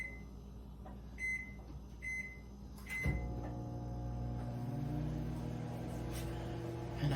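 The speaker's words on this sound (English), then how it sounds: "put it in the microwave for just a second" A microwave oven switches on about three seconds in after a few short beeps and clicks, then hums steadily and fairly loud while warming a small portion of frosting for peanut butter brownies in a home kitchen.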